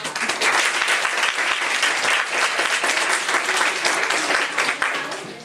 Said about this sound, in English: everybody give a big round of applause to our